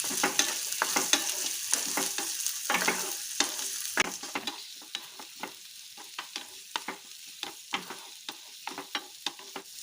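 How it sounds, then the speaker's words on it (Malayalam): Chopped onions sauté in a pan on the stove, a steady close sizzle broken by frequent sharp scrapes and taps of a spatula as they are stirred, with no voices. "അതിലേക്ക് കുറച്ച് സവാള അരിഞ്ഞത്, സവാള നമുക്കൊന്ന് നല്ലോണം വഴറ്റാം"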